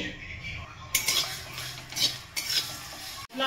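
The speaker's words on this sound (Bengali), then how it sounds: "ধনে, মৌরি, পাঁচফোড়ন, শুকনো লঙ্কা, জিরে শুকনো খোলায় একটু ভেজে নেব" Whole coriander, fennel, cumin, panch phoron and dried chillies rattle and scrape in a hot dry pan as a utensil stirs them, with a few louder scraping strokes and a brief sharp knock near the end.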